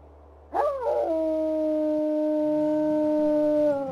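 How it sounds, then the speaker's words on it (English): A wolf in the Wolf Quest 3 video game lets out a single loud, clear howl that rises sharply then holds a long steady tone for about three seconds before cutting off. "Buddy, we need a howl."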